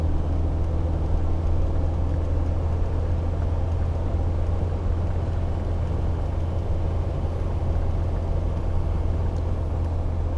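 Inside the cabin of a Land Rover Defender D90 cruising in fifth gear on a straight, with a steady low engine hum and constant road rumble, fairly quiet and even throughout.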